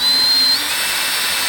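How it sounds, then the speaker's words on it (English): A power drill fitted with a 1/4 inch bit bores straight through the plastic fender of a 2018-or-later Yamaha Kodiak ATV, giving a steady loud high whine that eases slightly partway through, with no talking. "So you're going to take a 1/4 inch drill bit, line it up, hold it in place, and drill straight through there."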